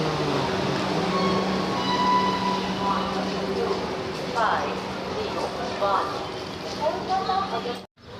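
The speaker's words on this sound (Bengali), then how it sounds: "ট্রেন আমাদের এখন এসে নামালো গুয়াহাটি জাংশনে" The Garib Rath Express (12501) from Kolkata pulls into Guwahati Junction with a steady rumbling hum and occasional tonal wheel squeals. Indistinct voices murmur in the background before a brief cut at the end.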